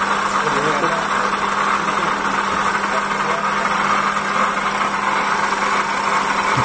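A Toyota Calya engine idles roughly with a loud, harsh whine from the alternator, a constant dense mechanical drone close to the engine bay with no pauses.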